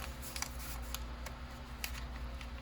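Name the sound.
scissors cutting paper journal embellishment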